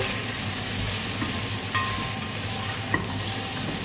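Chopped bottle gourd (lauki) being stirred in a hot oiled pan, producing a loud steady sizzle with occasional spatula scrapes and a sharp clink near the end, close-up and without talk.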